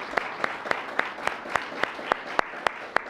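Crowd applause for candidates at a congressional district debate: a steady bed of clapping with one nearby pair of hands striking sharp, evenly spaced claps roughly three times a second above it.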